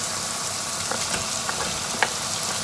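Diced potatoes go into a pan of sour aubergine masala for aloo baingan curry, giving a steady hissing sizzle with scattered soft clicks and stirring scrapes, fairly close and with no talking.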